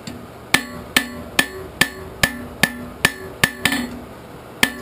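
A hammer strikes hot steel on an anvil while a leaf is forged, ringing out about ten sharp, metallic blows at a steady, deliberate pace, each with a short clanging decay, close by and with no talk.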